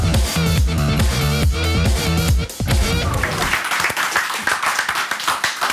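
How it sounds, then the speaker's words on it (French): Studio audience applause on a French geek-culture TV show, beginning under loud music and then continuing alone as a dense, close clatter of clapping. "Lolo Kéké, les gens applaudissent."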